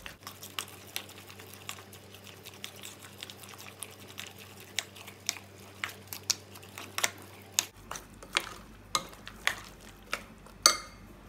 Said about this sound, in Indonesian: jadi langsung aja begini diaduk